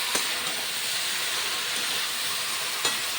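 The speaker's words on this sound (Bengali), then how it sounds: "নেড়ে চেড়ে কষিয়ে নিচ্ছি।" Mixed winter vegetables sizzle and fry in a pan as they are stirred, a loud continuous hiss with a couple of faint scraping knocks, close and steady.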